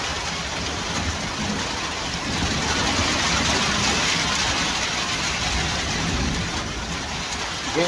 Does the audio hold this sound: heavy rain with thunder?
yes